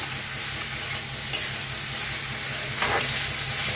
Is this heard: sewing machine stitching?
no